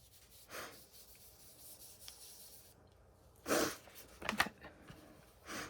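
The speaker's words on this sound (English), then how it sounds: "Pardon the sniffles, my allergies are really bad this morning." Two or three short, breathy sniffs stand out near the end over a faint rubbing background, close to the microphone, with no talking.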